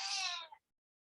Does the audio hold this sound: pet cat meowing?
yes